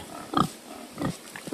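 A sow on a muddy farm grunts in two or three short, close bursts with quieter gaps between, no talking over them.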